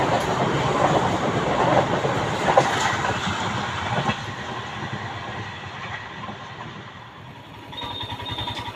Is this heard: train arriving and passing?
yes